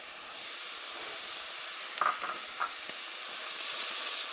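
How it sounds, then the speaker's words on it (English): Onion browns in a pan with a soft steady sizzle, close by, and a few light stirring scrapes near the middle, with no talk. "Onion is browning"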